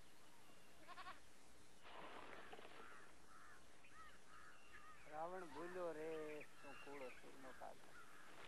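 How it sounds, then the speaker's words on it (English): A goat bleats several times during an Asiatic lion attack, with wavering cries in the middle of the clip amid rustling and other animal calls, heard faintly beneath a narrating voice. "only the goat protected them from Bilia's attack"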